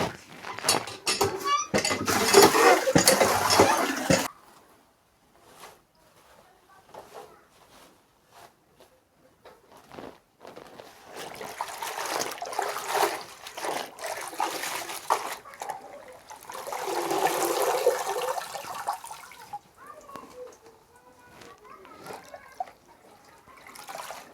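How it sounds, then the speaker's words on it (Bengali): Freshly picked red amaranth leaves are washed by hand in water in a container, giving bursts of splashing and clattering against the bowl, separated by quieter pauses. "এখন আমি শাকগুলো ধুয়ে নিব"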